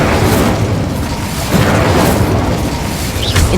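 The Incendio fire spell in Hogwarts Legacy erupts as a loud, sustained, roaring burst of flame that rumbles and whooshes without a break for several seconds, with no voices.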